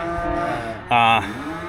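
Cattle moo in a farm yard where cows are out eating, a long low call rising into a louder, brighter bellow near the middle, then a lower moo trailing off, with no talk.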